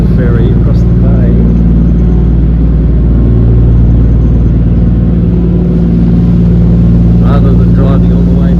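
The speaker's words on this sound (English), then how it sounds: "Taking a vehicle ferry across the bay." Heavy, steady low engine rumble and vibration aboard a vehicle ferry crossing Port Phillip Bay, loud and continuous throughout, with faint voices talking in the background.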